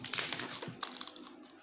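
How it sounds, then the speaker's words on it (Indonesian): Scissors snipping through plastic while making a betta fish divider, a quick run of crisp crinkly cuts and rustles, close and fairly quiet, with no talking. "Dipotong menggunakan gunting"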